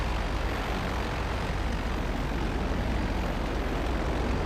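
Enemy aircraft engines in the GTA Online video game during aerial combat, a steady, loud, broadband drone held throughout with no breaks.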